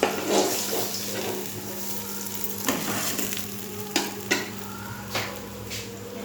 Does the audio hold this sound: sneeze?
no